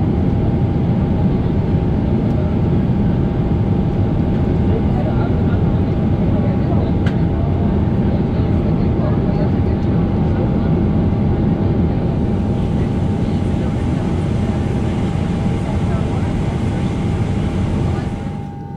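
Steady airplane cabin drone on a long-haul flight to Bangkok, a loud constant low rumble with a faint steady hum above it, unbroken throughout.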